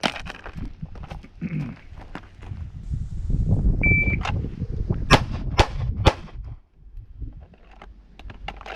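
Several handgun shots during a police qualification on a range, spaced unevenly as sharp cracks amid clicking and handling noises, with a faint beep of a shot timer partway through.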